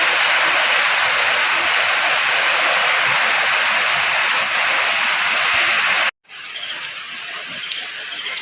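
Steady, loud rain pours down on a house with no roof and plywood walls, a dense continuous hiss that cuts out abruptly for a moment near the end before resuming slightly softer.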